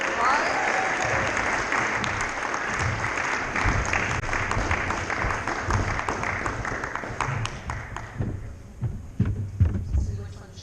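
An audience at a bike story night in the Austin Central Library applauds a storyteller, a dense burst of clapping that fills the room and gradually thins out toward the end, with a voice briefly over it.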